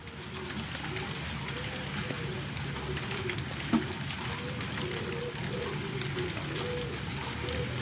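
Rain falling around a house, picked up by microphones out the back door, indoors and through windows: a steady, dense wash of drops with a few sharper nearby drips and taps scattered through.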